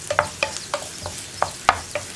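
Onion and ginger being sautéed in a pan, a spatula scraping and stirring in quick irregular strokes over a soft background sizzle, close and fairly quiet.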